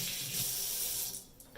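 Hot water drains out of a container, a close, hissing rush of running water that holds steady for about a second, then tapers off into a few last drips.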